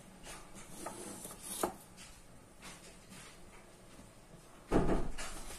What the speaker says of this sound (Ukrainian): І ще горішки добавлю, волошські, зараз подрібню їх трошки.